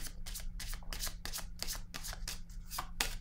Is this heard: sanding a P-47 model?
no